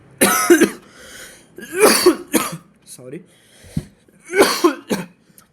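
A man coughs and clears his throat in several close, loud bursts spaced across a few seconds, with a brief breath between them.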